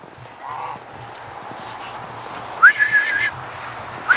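A short, high human whistle sounds a few times, fairly faint against steady outdoor background noise, as if calling out to a dog.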